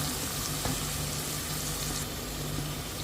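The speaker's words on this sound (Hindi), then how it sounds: "तो अभी सिर्फ स्पाइसेस हमने ऐड किए और ओनियन को सॉफ्ट होने तक इस तरह से चलाते रहना है।" Onions and spices frying in a pot for a dhaba-style white mutton stew give a loud, steady close-up sizzle, with faint scrapes of stirring underneath.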